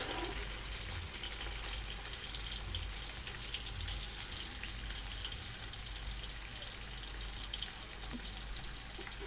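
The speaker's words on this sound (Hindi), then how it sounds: "प्याज इसके अंदर मैं डालूंगी" Chopped onion frying in melted ghee in an open pot for vegetable pulao, a soft, continuous sizzling hiss that stays even throughout.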